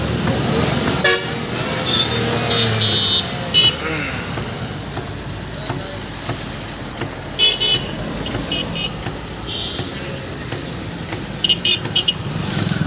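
A Tata Altroz with an accelerator problem runs with a steady engine and road drone throughout, while brief horn-like toots and tonal bursts stand out in several spots.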